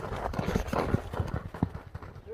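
Hooves of a Kyrgyz racehorse clip-clop in a quick, uneven rhythm of close, distinct thuds, set against a steady outdoor background hum.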